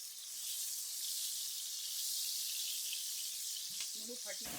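Sliced onion sautés in hot oil with cloves, cardamom, bay leaf and cinnamon, a steady close hiss of frying that runs throughout, with a short clatter of utensils near the end.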